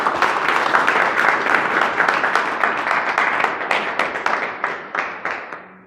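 A crowd at a Hindi-speaking gathering applauds loudly for a guru in a dense, steady burst of clapping that slowly thins into scattered individual claps before stopping.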